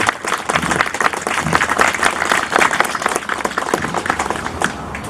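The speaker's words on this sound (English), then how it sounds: "Please join me in a round of applause for our great soldiers this morning." An outdoor audience claps for soldiers at a Korean War anniversary memorial ceremony in Washington State, a dense, steady applause sustained throughout and fading slightly at the very end.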